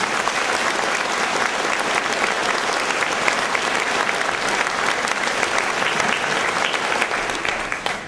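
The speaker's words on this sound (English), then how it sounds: "a very round of applause for all of our candidates for council." Sustained, dense applause from an audience at a council all-candidates night in Elliot Lake, steady and loud throughout before easing slightly at the end.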